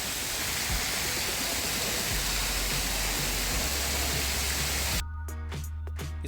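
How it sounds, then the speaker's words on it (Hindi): Bird-shaped garden fountains in Udaipur, brought from England, pour a dense, loud hiss like steady rainfall that suddenly cuts off near the end, leaving quieter ambience. "अगर आप यहाँ पर आओगे और थोड़ी देर अपनी आइज क्लोज करोगे तो आपको ऐसा लगेगा जैसे बारिश हो रही है"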